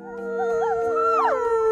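Wolves howl together at a wildlife reserve in Norway, several long overlapping howls rising and falling in pitch, close and loud, sustained without a break.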